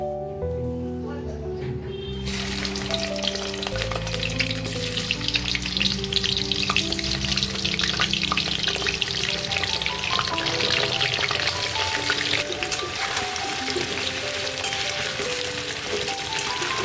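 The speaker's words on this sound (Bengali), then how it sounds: "এখন আমি আলুটা ভাজতে বসবো।" Potatoes frying in hot oil make a loud, steady crackling sizzle that runs throughout, close by, with music playing underneath.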